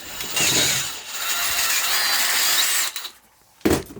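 A power drill grinds steadily into a supermoto stunt peg for nearly three seconds, loud and close, then stops, with one more brief burst near the end.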